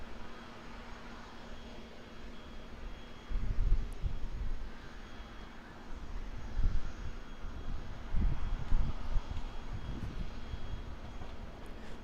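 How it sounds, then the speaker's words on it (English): An Airbus A321neo taxis out at Auckland Airport, its jet engines a faint, distant hum that swells in a few soft surges over a steady background hiss. "we've got another Airbus A321neo just taxiing out now"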